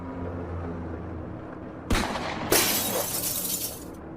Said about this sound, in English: He fired at the top of the glass, shattering it completely.